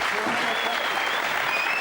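Scattered, sporadic applause from the crowd at a pool match ripples steadily through the whole moment, a continuous patter of clapping hands at moderate distance with faint background murmur.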